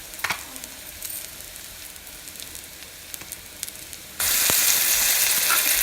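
Ginger garlic paste hits browning onions in hot oil for brinjal pulav: a quiet fry with occasional stirring clicks suddenly bursts into a loud, steady, hissing sizzle.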